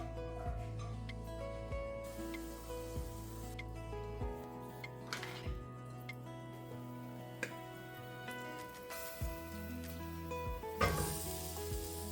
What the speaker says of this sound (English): We're just going to stir it all in, really mix that in.